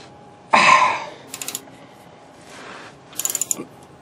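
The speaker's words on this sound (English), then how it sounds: "you just ratchet it tight" A ratchet wrench tightens the rear differential plug on a 2001 Ford F150, sounding as a loud burst of rapid clicks followed by short bursts of ratcheting, close and alone.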